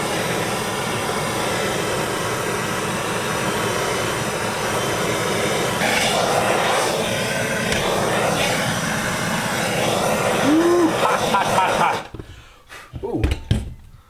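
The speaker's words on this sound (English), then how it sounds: "We're going to try a propane torch. Heat it up from the backside." A propane torch heating the back of a Yamaha Royal Star Venture motorcycle headlight to soften its glue: a steady, close roaring hiss for about twelve seconds that cuts off abruptly, followed by a few light clinks and knocks.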